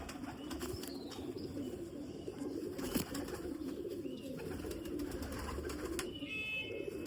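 Flock of golden pigeons kept by a pigeon fancier coos steadily in a low murmuring chorus, fairly faint, with a few sharper sounds and brief bird calls over the top.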